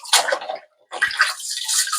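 Rice being rinsed in a bowl of water by hand, with close sloshing and swishing in two bursts separated by a short pause, no voices.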